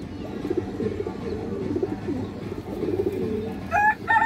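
Silver khaki pigeons coo close by in low, repeated rolling phrases over a steady background murmur, with a brief higher chirping near the end.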